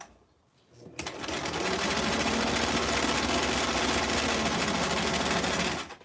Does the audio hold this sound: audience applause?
no